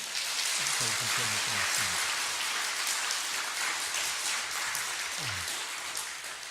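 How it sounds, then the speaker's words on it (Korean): Applause from a church audience at an autumn culture festival after a Korean traditional music performance, a steady wash of clapping throughout with a brief voice rising near the end. "다시 한번 뜨거운 격려의 박수로 고맙습니다"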